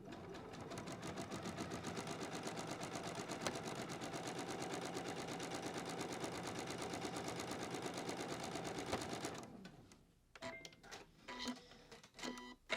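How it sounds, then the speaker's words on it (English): A sewing machine stitches a log cabin quilt block seam in one steady, rapid run of needle clatter for about nine seconds, then stops, leaving a few soft handling clicks and thumps. "So I am going to sew down this side right here"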